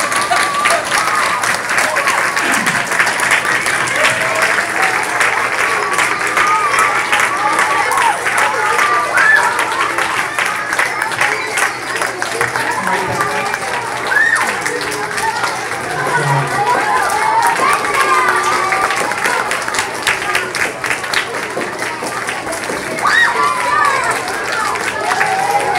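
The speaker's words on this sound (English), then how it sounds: "They come back up to stage and we can give them a big round of applause." Sustained applause from an audience at a school spelling bee, a dense steady wash of clapping with some crowd chatter mixed in, lasting throughout at an even loudness.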